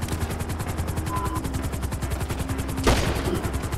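Rapid rhythmic automatic gunfire in GTA Online, a steady rattling burst under a helicopter-like drone, with one sharper louder blast near the end.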